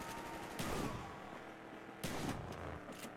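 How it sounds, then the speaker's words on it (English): Two heavy shotgun blasts in the video game Call of Duty: Black Ops boom out about a second and a half apart, each with a sharp crack and a rumbling tail, a third lighter shot following right after the second. "I have a shotgun."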